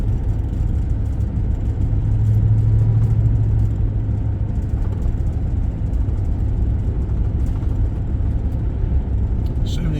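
A car cruising along US Highway 441 through the mountains of North Georgia, giving a steady, loud road rumble and engine drone that holds evenly throughout with no pauses.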